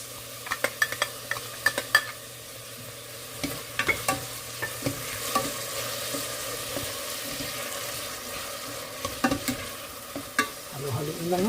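Tomato stirred and fried in a pan, with squid added next, giving a steady sizzle under repeated scraping and clattering stirs that come in short bursts near the mic.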